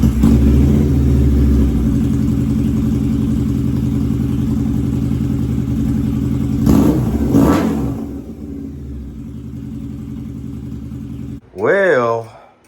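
A 2005 Harley-Davidson V-Rod engine runs with a steady loud idle close by, blips upward in a couple of revs, drops quieter, then fires up again with a brief rising rev at the end.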